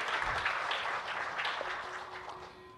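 Audience clapping at a Buddhist temple ceremony in Seattle, a dense steady applause that carries on for the whole stretch and fades slightly toward the end.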